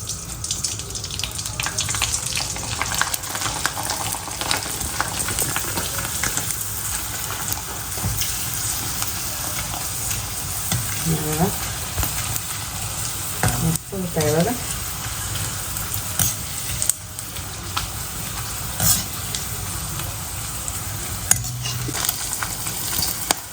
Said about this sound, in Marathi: तेल तापलेलं आहे आता आपण टाकला फ्राय करून घेऊ